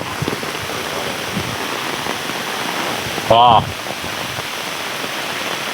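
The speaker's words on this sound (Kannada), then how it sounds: "ಮಳೆ ಜೋರುಂಟು" Heavy rain pours in a dense, steady hiss, loud and close, broken briefly by a short spoken exclamation.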